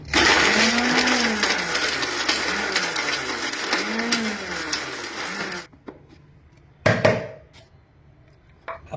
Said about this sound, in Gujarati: 8-10 દાણા એલચી લીધા છે અને અડધું નાનું જાયફળ લીધું છે અને મિક્સરમાં પીસી નાખીએ